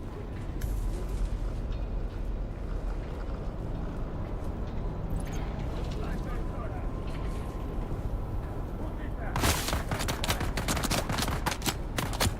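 Gunfire in the sci-fi survival game Dune: Awakening, a steady dense wash of rattling shots that grows sharper and louder near the end, with bursts of distinct cracks over background game noise.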